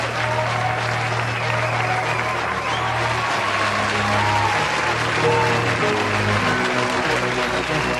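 Sustained studio audience applause with cheering carries steadily through the whole stretch, loud and dense, closing out an episode of a technology-themed podcast show.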